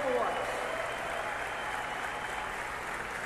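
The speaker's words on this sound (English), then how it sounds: "a big round of applause to the Overwatch development team here on stage" Audience applause for the Overwatch development team on stage at a live event: a dense, sustained wash of clapping from a large crowd, loud and steady throughout with faint voices mixed in.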